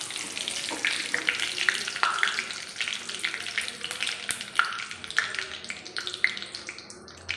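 Chicken rolls deep-fry in hot oil, a close, bubbling sizzle broken by sharp pops and small taps of a utensil at irregular intervals.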